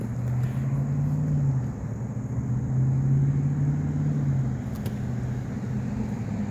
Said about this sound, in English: Oh, there's traffic coming.